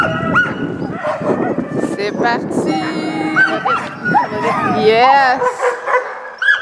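Sled dogs at a chalet bark, yip and whimper excitedly before a dog sled run, a close, dense chorus of overlapping calls with people talking and cheering over it.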